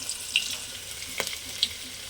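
Onions and tempering seeds frying in a couple of spoons of oil, a faint steady sizzle with a few brief crackles and pops, no talking.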